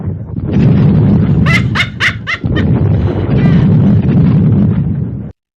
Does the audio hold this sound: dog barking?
yes